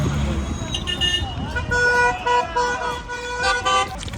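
Several short car horn toots sound in busy street traffic, with people talking nearby.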